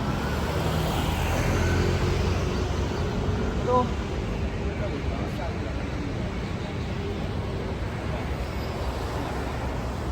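Road traffic on a busy Hong Kong overpass makes a continuous broad roar with vehicles passing, heard steadily throughout, with a faint siren-like tone briefly rising partway through.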